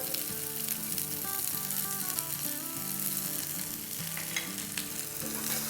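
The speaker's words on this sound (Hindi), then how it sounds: "देखिए इस तरह का हमें सिजलिंग साउंड चाहिए।" Chicken frying in a pan gives off a steady, dense sizzle with crackling spatter throughout, close and continuous, while faint background music plays underneath.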